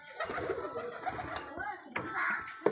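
Pigeons coo in a loft, close and fairly clear, with soft bursts of cooing repeating over a few seconds. People talk nearby.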